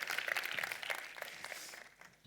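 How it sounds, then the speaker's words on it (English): Conference talk audience applauds, a soft scattered clapping that is strongest at first and then gradually fades, heard at a distance with no voices. "A round of applause."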